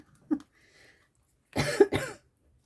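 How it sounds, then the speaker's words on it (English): A single short throat sound, then a louder double cough, close and fairly quiet, set against near silence. "I'm trying really hard not to cough."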